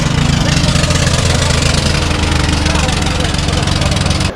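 A boat's motor runs loud and steady at close range on a river trip at Jaflong, Sylhet, with an unbroken rumbling drone that stays constant from start to end.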